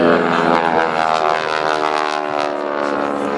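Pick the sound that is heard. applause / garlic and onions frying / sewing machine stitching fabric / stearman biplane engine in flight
stearman biplane engine in flight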